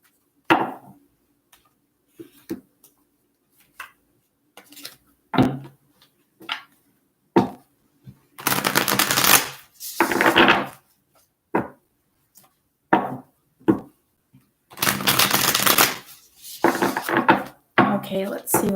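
Tarot cards shuffled by hand, close up: scattered crisp taps and flicks broken by two longer, louder bursts of riffling, with short pauses between.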